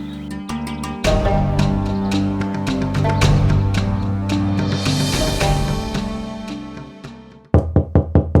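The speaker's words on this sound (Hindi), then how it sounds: "राजेंद्र, अरे ओ राजेंद्र, अरे खोल दरवाजा।" Knocking on a door in a Hindi crime drama: a quick series of sharp, loud raps at the end, following music.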